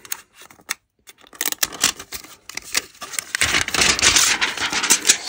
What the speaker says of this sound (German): Und das werden wir jetzt mal auch hier von der Folie befreien.